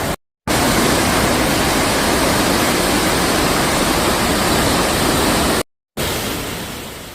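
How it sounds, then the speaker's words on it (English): Torrential rain and floodwater pour through the streets of Fushun during record flooding, a loud, dense, continuous broadband roar like a waterfall, cut by two brief silent gaps. "Torrential rainfall overwhelmed streets, submerged neighborhoods, and forced emergency teams into action"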